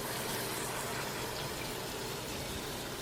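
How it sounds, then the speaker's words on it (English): Cold tap water gushes steadily over pasta and peas in a colander, a loud, dense, continuous splashing rush close by with no pauses. "Rinse the pasta and the peas with cold water."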